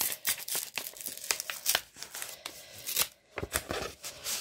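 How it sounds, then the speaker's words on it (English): A handmade Christmas card from a craft swap is opened by hand, giving a close run of sharp paper crinkles, tearing and rustling bursts with brief pauses, no talk. "So I'm going to open up this card."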